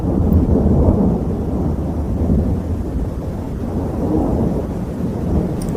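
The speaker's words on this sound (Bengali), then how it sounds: "চারদিকে ঘুরি ঘুরি বৃষ্টি পড়ছে।" A night thunderstorm with rain gives a heavy, continuous low rumble of thunder over a steady wash of rainfall. It rolls on loud and unbroken, with no voices.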